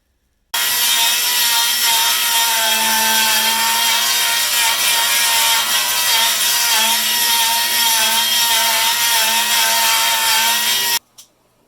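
A power tool, likely a saw, cuts out a custom inner fender piece for a car, running steadily and loudly for about ten seconds with no talk, then stopping abruptly.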